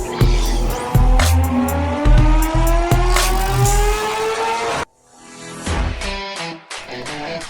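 A car engine runs and revs with rising, shifting pitch as it drives, then briefly drops away before picking up again; no talking.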